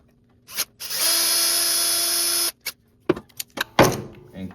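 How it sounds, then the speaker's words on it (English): A power drill bores through a battery cable terminal on a Toro LX 427 riding mower, giving one sustained high whine of about a second and a half, then clatter and handling knocks. "We're gonna try drilling again with it locked up like this."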